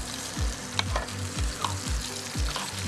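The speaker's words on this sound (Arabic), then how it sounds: "رح نغرق شوي الدجاج بالصوص ليغلوا مع بعضهم" Chicken in sauce bubbles and sizzles in a pan for Greek-style chicken, with a steady frying hiss under a few regular scraping stirs, close and fairly quiet, no talking.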